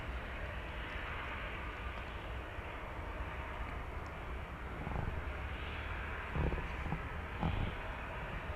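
A distant airplane lands at DFW Airport, a faint steady jet rumble and roar that swells slightly toward the end, heard alone without talk.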